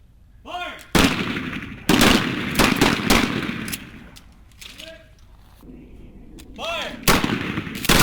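Marines fire shoulder-fired grenade launchers and shotguns on a range, loud sharp booms and blasts repeating at irregular intervals with short gaps, while a voice calls out commands between the shots.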